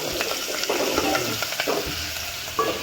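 Green chilies fry in hot oil for kadhi with a steady crackling sizzle, close and fairly loud, broken by light stirring clinks and pops, with no talk.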